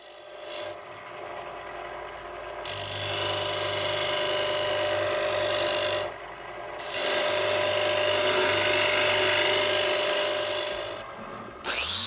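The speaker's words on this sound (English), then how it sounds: "Here I am with the skew chisel, recessing the bottom to accept the expanding jaws of the chuck." Skew chisel cutting a recess into the base of a wooden bowl spinning on a lathe, loud sustained shearing rasp in two long passes with short quieter gaps where the tool lifts off the wood.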